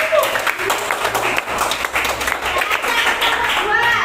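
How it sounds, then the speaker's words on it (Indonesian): A crowd claps steadily for several seconds, a dense wash of applause with a voice or two faintly underneath. "tepuk tangan untuk kelompok baru"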